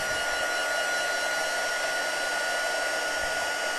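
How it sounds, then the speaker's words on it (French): A handheld heat tool blows steadily, warming embossing powder on a stamped card, giving a continuous loud, close whooshing hiss with no pauses and no talking. "Et je vais le chauffer. Alors, ça va faire un petit peu de bruit, pas très longtemps"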